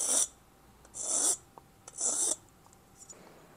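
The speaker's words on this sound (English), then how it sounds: "you can use a fine tooth file" A fine-tooth file rasps across the freshly cut edge of a cast piston from a KTM 300 two-stroke engine, three long strokes at close range, then a few faint light scrapes, with no talk.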